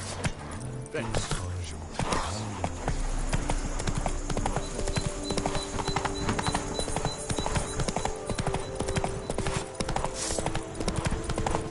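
Roach the horse gallops in The Witcher 3, a loud steady run of hoofbeats close by over game music, with voices talking over it.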